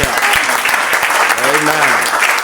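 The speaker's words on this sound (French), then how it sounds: "Apportons les acclamations, Seigneur." Church congregation at an evangelistic campaign applauds and acclaims, steady dense clapping filling the space with voices shouting and singing over it.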